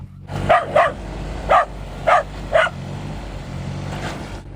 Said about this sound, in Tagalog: Si Asie, ang pinakamapagbantay na aso sa hardin.